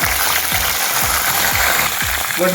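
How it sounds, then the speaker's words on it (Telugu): Cumin, coriander seeds, green chillies and peanuts frying in a pan for tomato and coriander chutney, a loud, steady hiss and sizzle with rhythmic scraping or clicking underneath. "ఇక్కడ జీలకర్ర ధనియాలు పచ్చిమిర్చి అలాగే వేరుశనగ గుళ్ళు ఈ ఐటమ్స్ ఏదైతున్నాయో అవి ఫ్రై అవుతున్నాయి"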